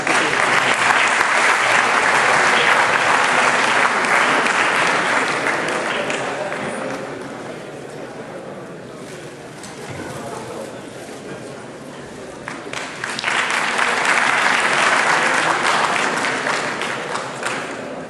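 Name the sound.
audience applause welcoming guests on stage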